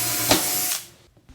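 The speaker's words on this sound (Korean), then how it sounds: "전선이 받침대 밑으로 빠질 수 있게 하기 위해 전선 구멍을 미리 뚫어주고" A power drill whirs briefly while boring wire holes into a floor stand base, a close, loud burst that winds down and stops within about a second.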